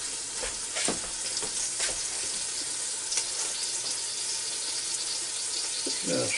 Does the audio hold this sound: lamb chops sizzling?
yes